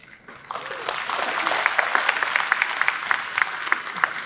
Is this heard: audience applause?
yes